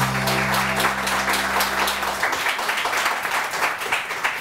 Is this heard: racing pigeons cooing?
no